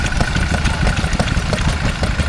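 A vintage stationary engine runs loud and close at a rural pastimes show, with a steady, rapid, slightly uneven thumping beat over a continuous mechanical rumble.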